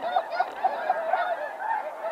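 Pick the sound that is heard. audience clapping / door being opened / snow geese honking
snow geese honking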